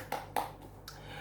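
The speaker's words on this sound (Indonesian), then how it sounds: "Oke, tepuk tangan dulu ibu-ibu" A few women clap hands in a small group meeting: three or four sharp, separate claps spaced irregularly, faint and close against a quiet background hum.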